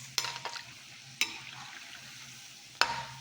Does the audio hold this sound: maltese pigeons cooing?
no